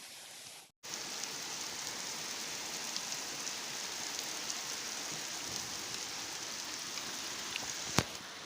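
Steady, dense rain pours down and patters on surfaces, a constant hiss with no talking.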